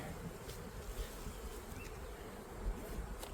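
Honeybees at a hive being smoked during a spring colony split make a dense, steady buzzing swarm drone, loud and continuous throughout with no voices.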